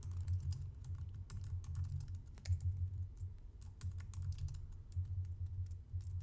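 Quick, steady typing on a computer keyboard, close light clicks running continuously over a low hum, with no one speaking.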